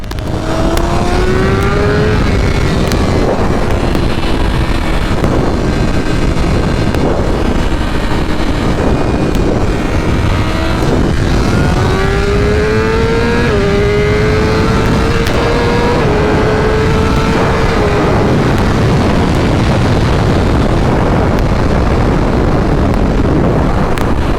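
Tuned 2023 BMW S1000RR motorcycle with flashed ECU accelerating hard from 60 to 130, loud engine rising through several gear shifts over heavy wind rush, no talk.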